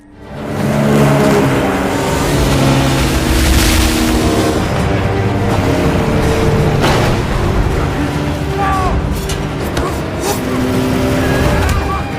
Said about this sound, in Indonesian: kali ini Broto dan Tunda membawa kapal boot dan jet ski hingga pertarungan di atas air pun terjadi